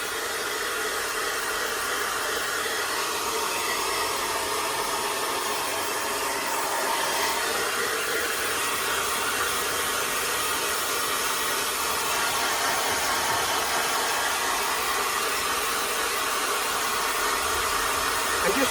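A blow dryer runs steadily at close range while drying a cockapoo's coat during home grooming, a constant airy roar with no break across the whole stretch.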